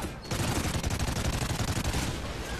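Dense, continuous gunfire rattles through a firefight in Call of Duty: Ghosts, rapid overlapping shots sustained loudly for the whole stretch with no talk over it.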